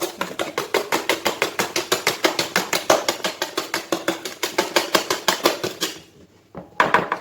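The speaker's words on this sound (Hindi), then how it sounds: "थोड़ी सी शुगर ऐड करेंगे और उसको अच्छे से मिक्स करेंगे" A spoon beats sugar into semolina cake batter in a bowl, making rapid, rhythmic scraping clinks against the bowl that are loud and close, then pausing briefly before one last stir.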